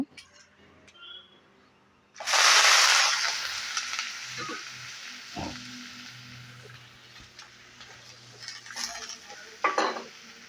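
Onion, garlic and curry leaves land in hot oil with a sudden loud burst of sizzling that gradually settles into a steadier fry, while a spoon scrapes and clinks against the pan, stirring them lightly.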